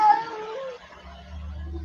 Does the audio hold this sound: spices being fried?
no